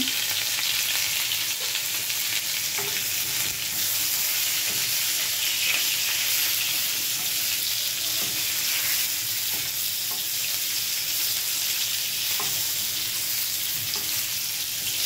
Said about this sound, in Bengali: পটলটাকে উল্টে পাল্টে ভাজতে হবে।